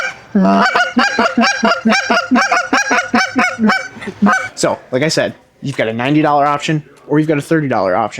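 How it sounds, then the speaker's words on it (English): A GK Calls Rumbler goose call made of Delrin, blown in a fast, rhythmic run of loud, close honks and clucks, then a few drawn-out honks, with someone talking near the end. "I have the GK Calls Rumbler in Delrin"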